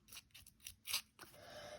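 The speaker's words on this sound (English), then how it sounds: "I'm going to use my scalpel just to rough up the edge." A scalpel blade scraping along the edge of a small piece of paper for a journal pocket, giving a few quick, faint rasping strokes close by with no talking.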